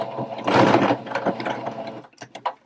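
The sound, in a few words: sewing machine sewing straight stitch back and forth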